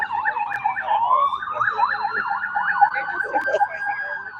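An ambulance siren wails loudly nearby, its pitch sweeping up and down in a rapid repeating cycle for the whole stretch, with no voices over it.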